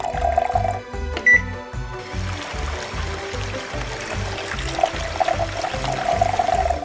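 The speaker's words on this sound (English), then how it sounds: "Pour gasoline into the tank." Gasoline pours into the fuel tank of a LEGO Technic truck, a continuous liquid splash and trickle over a rhythmic low pulsing from a small electric fuel pump.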